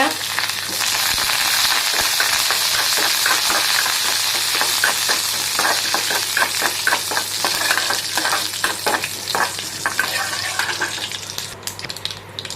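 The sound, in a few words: frying urad dal and curry leaves in oil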